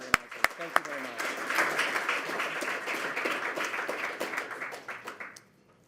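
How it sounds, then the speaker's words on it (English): Audience applause for event sponsors and organizers at a hackathon opening, a sustained crowd of clapping hands lasting about five seconds after a few sharp claps, then fading out. "So please, a special round of applause for Microsoft, Google, and our event organizers."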